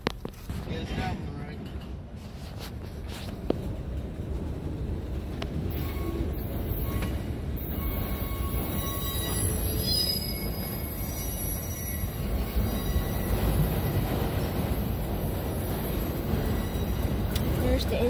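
Train engine moving through the Norfolk Southern Simpson rail yard during switching, a continuous rumble with squealing wheels and metallic screeches at moderate distance, while people talk nearby.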